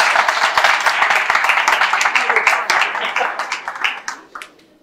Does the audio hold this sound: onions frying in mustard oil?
no